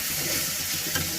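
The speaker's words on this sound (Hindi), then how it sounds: "तो देखिए, थोड़ा सा केला फ्राई हो जाता है, कच्चा केला" Raw green banana pieces, soaked in turmeric and salt, fry in a pan with a steady close sizzle and faint stirring for a brief moment, no voices.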